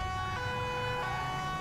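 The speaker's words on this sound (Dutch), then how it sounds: "Moet ik weer de sirenes aandoen?" Police car siren in the video game GTA 5, a steady wailing electronic tone held continuously over a low engine rumble, loud and close with no talking.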